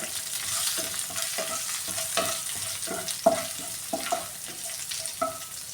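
Curry leaves and dried red chilies crackling in hot oil for a raw banana stir fry, a close sizzle punctuated by regular scraping stirs and a few sharp pops.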